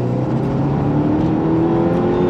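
A 380bhp Seat Leon Cupra track car launches in second gear with wheelspin, its engine holding a loud, steady high-revving drone close by throughout.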